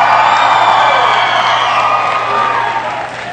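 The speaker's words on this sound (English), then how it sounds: "I would greatly appreciate it if all my classmates would cheer during my speech" A graduating class cheers and whoops loudly at a 2011 commencement, a dense, sustained crowd roar that stays strong throughout and eases slightly near the end.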